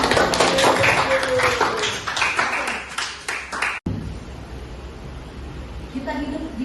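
Audience clapping in a hall during a teaching session, a dense burst of applause over a voice that fades after a few seconds, followed by quieter room noise.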